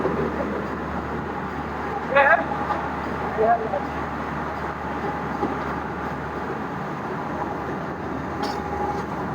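The Thal Express passenger train from Multan to Kundian rumbles along steadily with a low, constant drone, arriving at Bakhar railway station, with a few brief metallic squeals rising above it.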